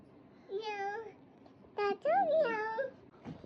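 A house cat meows several times in a family home, drawn-out wavering cries with short pauses between them, fairly close and moderately quiet.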